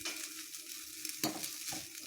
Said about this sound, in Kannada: ಸೊ ಈಗ ನೋಡಿ ನಿಂಬು ಸಾರು ಕುದಿಯೋಕ್ಕೆ ಬಂದಿದೆ